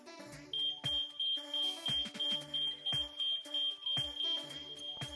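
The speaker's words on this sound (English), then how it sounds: "Once we've held the test button for roughly 10 seconds, the alarm sounds" A household smoke alarm sounds during a push-button test, giving a rapid run of shrill, regular beeps that repeat steadily over low background noises at moderate volume.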